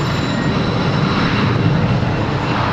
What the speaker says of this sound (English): the Airbus A380 could be any jetliner hurtling down the runway